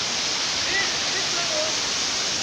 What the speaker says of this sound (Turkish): Oradan akarsu şöyle şuraya düşüyor.